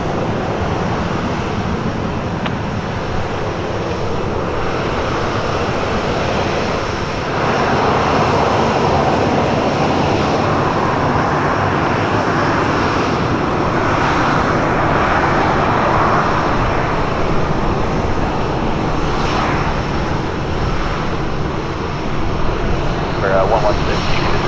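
An airplane at Portland Airport gives a loud, steady engine roar that fills the whole stretch, swelling slightly midway. Radio-style talk runs underneath.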